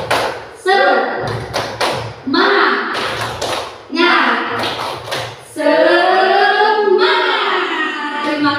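A group performs the Indonesian 'tepuk semangat' clapping chant, crisp rhythmic claps in short bursts alternating with voices calling out together, close and loud throughout.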